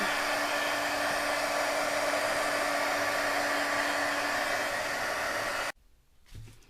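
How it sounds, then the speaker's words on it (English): A heat tool blows a loud, steady whoosh with a faint hum while drying gesso on porous card stock, then cuts off abruptly, leaving near silence and a soft rustle. "you can use, of course, a heating tool, which is what we're going to do"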